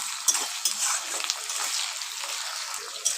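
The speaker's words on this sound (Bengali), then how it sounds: "টমেটোটা পেঁয়াজের সঙ্গে ভালো করে মিশিয়ে নিচ্ছি" Tomatoes and onions fry together in a pan, a steady close sizzle broken by a few sharp scrapes and knocks as they are stirred.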